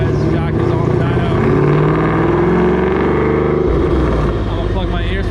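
A 2018 Mustang with a Whipple supercharger on an E85 tune revs hard on a dyno: a loud, close, sustained engine roar that holds, then drops off near the end, with voices faintly underneath.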